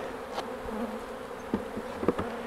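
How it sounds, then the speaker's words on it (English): Honey bees shaken out of a hive frame during autumn hive consolidation, a close, dense buzzing drone with a few brief thumps and louder bursts as bees are knocked loose, no talk. "so I'm going to shake these bees out as well"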